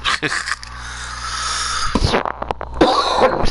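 A few harsh coughs burst out close up near the start, followed by a rough throaty noise and some breathy sounds later on.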